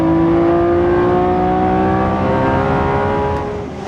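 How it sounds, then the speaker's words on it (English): A Lamborghini Revuelto's V12 engine revs, a loud, close, high-pitched wail holding steady harmonic tones, then easing off slightly toward the end. "it does not feel like that V12 needs any help"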